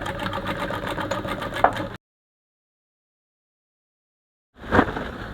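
A sewing machine stitches a kimono sleeve in a fast, even mechanical whir, stops for a few seconds of silence, then starts again with a brief louder clatter.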